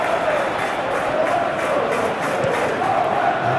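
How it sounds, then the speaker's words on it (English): A packed stadium crowd in the PES 2021 football video game chants and roars in good voice, a dense, loud, continuous wall of singing and cheering that never drops out. "the crowd, who are here in good number and indeed in good voice"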